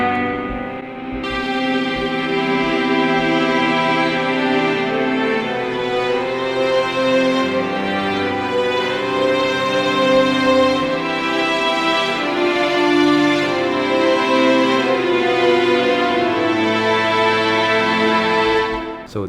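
Amplified cello quartet from Spitfire Labs plays sustained, warm, slowly changing chords, a dense, continuous bowed string texture, steady and close with no talking.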